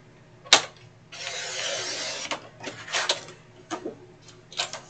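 A paper sheet being cut for a DIY box insert, with several close, dry slicing and rasping strokes separated by short pauses, including one longer drawn-out cut near the start.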